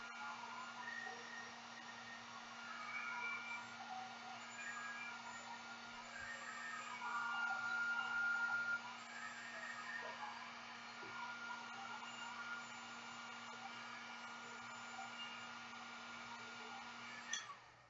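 A heat gun blows hot air in a steady, quiet whir with a constant hum tone, running without pause and no voices.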